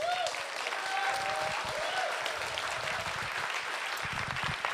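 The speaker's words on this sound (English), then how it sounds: "Please give the panelists a round of applause" Steady applause from an audience fills the whole stretch, dense and continuous clapping with a faint tonal hum in the background.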